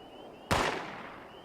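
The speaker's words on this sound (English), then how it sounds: "Are they shooting the bugs for me?" A single sharp gunshot rings out from NPCs firing at bugs in Fallout 76, a loud crack with a short echoing tail over quiet game ambience.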